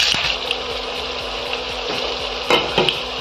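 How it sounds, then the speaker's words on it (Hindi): Cumin, onion, garlic and red chili frying in hot mustard oil, a loud steady sizzle with rhythmic stirring scrapes and a couple of sharper clatters near the end, no talking. "सरसों का तेल गर्म हो चुका है, तो हम इसके अंदर जीरा, प्याज, लहसुन और लाल मिर्च डाल देंगे।"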